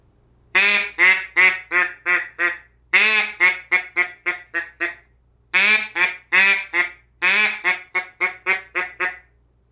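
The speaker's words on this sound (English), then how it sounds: "And it's just a string of quacks." A duck call sounds four loud bursts, each a rapid string of quacks that fade and grow quieter toward the end, with short pauses between.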